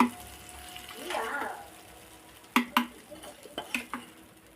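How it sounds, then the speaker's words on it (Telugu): Tomatoes fry in a pan for urad dal chutney. A low sizzle and swishing are followed by several sharp clanks of a utensil against the pan, close and fairly loud. "అంతలోకి టమాటోలు వేగడం చూద్దాం ఫ్రెండ్స్."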